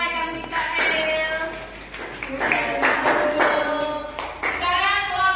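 Second-grade children in a primary school classroom clap rhythmically together for a group, close and lively, with young voices calling and chattering over the clapping throughout.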